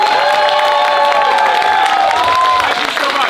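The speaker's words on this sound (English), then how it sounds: "let's give the cast another round of applause" Loud applause and cheering from a theatre audience after a Julius Caesar performance, with whoops and shouts over continuous clapping that eases slightly near the end.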